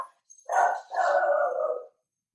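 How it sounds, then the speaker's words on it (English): A pet dog indoors gives two angry, drawn-out barks or howling yelps close by, one short and one longer, with silence around them. "Do you hear my dogs freaking out?"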